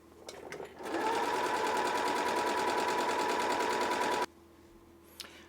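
A serger runs a test seam in one steady, loud burst of fast stitching lasting about three seconds, with a faint start and a quiet stop.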